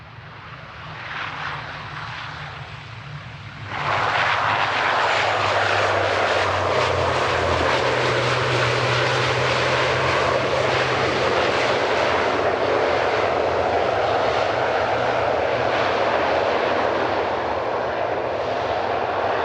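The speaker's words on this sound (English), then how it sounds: "Little ATR 72-600 of Emerald Airlines UK operating for Airlines Regional." An Emerald Airlines UK ATR 72-600 turboprop airliner at Manchester Airport starts as a distant drone, then suddenly swells into a loud, sustained propeller roar that stays strong for the rest of the sequence.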